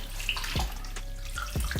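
Water poured into a bowl over raw chicken pieces for a fried chicken brine, with brief splashy surges and pouring gurgles, close and fairly loud, no talk.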